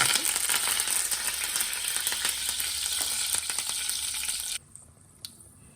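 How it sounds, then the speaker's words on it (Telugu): Mustard seeds and cumin sizzle in hot oil over medium flame, a dense close crackle with faint popping and stirring, alone before it cuts off abruptly near the end. "ఆయిల్ కాగిపోయింది మీడియం మీడియం ఫ్లేమ్లో పెట్టుకుందాం కొద్దిగా ఆవాలు ఒక హాఫ్ టీ స్పూన్ జీలకర్ర"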